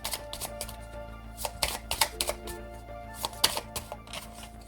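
Oracle cards are shuffled and drawn by hand, giving quick uneven flicks and taps of card stock, close and fairly soft, with no talking.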